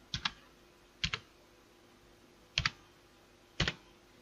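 Keys on a computer keyboard tapped in four separate quick bursts of two or three clicks each, close and fairly quiet in an otherwise still room.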